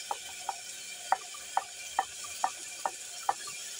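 Spice paste frying with onions and bay leaves in a pan, quiet steady sizzle punctuated by regular light scraping taps of a spoon stirring, about eight strokes, close and alone.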